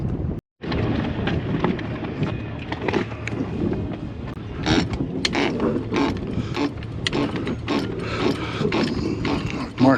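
Ratchet clicks and mechanical clanks while a sailboat's backstay is retensioned on a rig refit, a steady run of close metallic ratcheting with a brief gap near the start.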